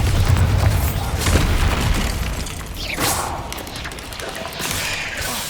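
Bombarda spell blasts in Hogwarts Legacy, a deep booming explosion with heavy low thuds, followed by further crashing impacts and a bright crackling burst midway, loud and close throughout.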